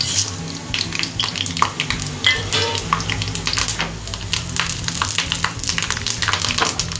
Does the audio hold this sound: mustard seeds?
yes